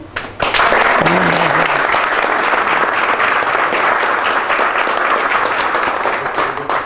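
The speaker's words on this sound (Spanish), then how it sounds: "Darle las gracias, por supuesto, a Iván, un aplauso grande." Loud applause from the audience at a Café Científico public science talk in Puerto Montt, starting abruptly after a brief voice and continuing as a dense, close wash of clapping that fades slightly at the end.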